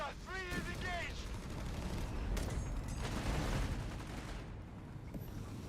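A mortar barrage lands in the Company of Heroes 3 strategy game, a quiet spread of muffled blasts and crackling explosions, with a commentator speaking throughout.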